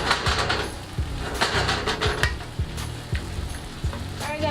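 Chicken pieces fry in a pan for Peruvian pollo saltado, giving a loud, steady sizzle with regular metallic clinks and scrapes of stirring throughout.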